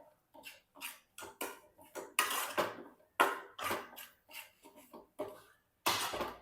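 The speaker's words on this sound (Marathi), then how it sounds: "आता छान आपल्याला हे परतून घ्यायचं आहे वीस ते पंचवीस सेकंद तरी हे छान परतून घेऊयात" Potato masala sautés in a pan as a spoon scrapes and knocks against the metal in quick irregular bursts, close and fairly quiet with gaps of silence between strokes.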